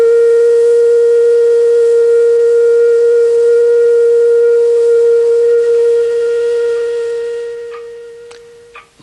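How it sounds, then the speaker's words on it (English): A gas-boiler steam clock's whistle blows one long, loud, steady tonal note with a breathy hiss, held for several seconds before fading out with a few clicks at the end. "The whistle will be eventually supported at the top of the clock, held by the central statue."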